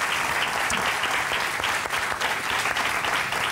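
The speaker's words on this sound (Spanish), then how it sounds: "te vamos a dar este aplauso." Audience applause on a Canarian folk music TV programme, a dense, even wash of clapping that holds at a steady level for the whole stretch.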